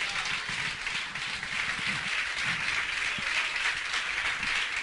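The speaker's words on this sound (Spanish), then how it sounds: "Denle un aplauso al Señor." A church congregation claps for the Lord during a Christian sermon, steady enthusiastic applause sustained throughout at moderate loudness.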